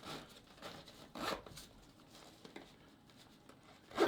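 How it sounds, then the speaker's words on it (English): A bag zipper on an Evergoods CAP pack is pulled closed in several quick, quiet zipping strokes, close and soft with brief rustling between them. "I'll turn it around so you guys can see me zip it up."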